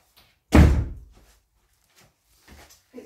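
A door is shut with one loud, solid thunk, followed by faint small knocks and rustles in a quiet room.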